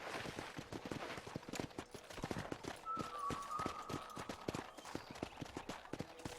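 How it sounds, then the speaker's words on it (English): Steady clip-clop of horse hooves at a brisk rhythmic pace in the video game Red Dead Redemption, crisp and close, with a faint high tone briefly in the background. "let's see if you can still ride a horse"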